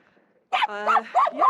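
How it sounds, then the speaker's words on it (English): A dog barks and yips at crows outdoors in rural Wales, a few loud close bursts after a quiet start. "So the dog's just barking at crows"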